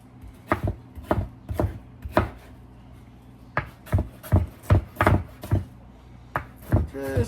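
A knife chops through a large bell pepper on a cutting board in a home kitchen, a quick run of sharp, close knocks in uneven bursts with brief pauses between them.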